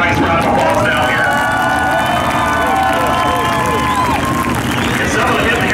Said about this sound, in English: Give him another nice round of applause down here.